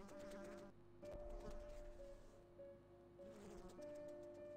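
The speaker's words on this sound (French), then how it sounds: "il y a toujours ce son de mouche" A faint, continuous droning buzz of a fly circles in the Corpse Party: Book of Shadows game soundscape, wavering in pitch as it drifts nearer and farther, with no talking.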